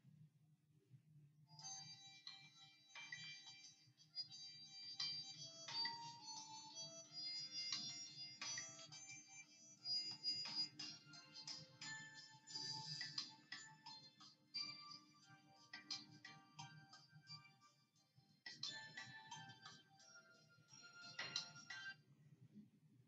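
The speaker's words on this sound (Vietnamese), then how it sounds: "trong thời gian quan sát cô sẽ mở nhạc cho các em nghe" Background music played for students during an art class observation period, a faint tinkling melody with chime-like tones in a quiet room, soft and steady with brief pauses.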